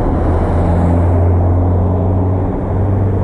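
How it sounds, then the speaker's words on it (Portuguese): A car passes on the street outside, heard as a steady, even low rumble with a droning hum and no clear rise or fall over about three seconds. "Pera aí que tá passando o carro."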